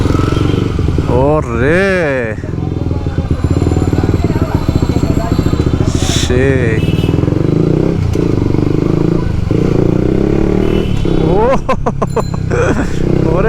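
A 2021 Honda CBR 150R fitted with an R9 ZETA-R series exhaust revs hard in loud, close bursts, with sharp rises and falls and crackly popping near the end, while a rider exclaims over it.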